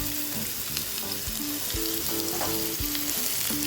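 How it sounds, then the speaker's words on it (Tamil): Fresh mushrooms sauté in butter and garlic, a loud, dense sizzle with occasional stirring clatter, close up and without talk. "நல்லா சாட்டே பண்ணிக்கோங்க."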